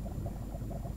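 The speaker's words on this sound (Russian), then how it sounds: "Потому что звуки лавы я всегда любил." Lava ambience from the video game Minecraft, heard in a 20w14infinite snapshot: a steady low bubbling and popping loop, continuous and fairly loud, with no voices over it.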